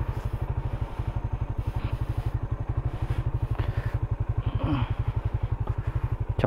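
Suzuki Raider motorcycle ridden off-road on a mountain trail, its engine a steady rapid low putter with fast regular firing pulses, close and continuous, with faint clatter and a brief rev swell midway.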